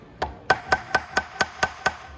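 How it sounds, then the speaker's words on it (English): Screwdriver tapped against a stuck part on a 125cc engine, eight sharp metallic ticks in a steady, even rhythm, close and clear with no talking. "put a screwdriver in there and just tap it."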